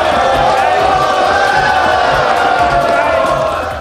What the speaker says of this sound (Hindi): पूरा सदन तालियों से गूंज उठा